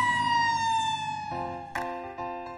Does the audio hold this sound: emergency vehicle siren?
yes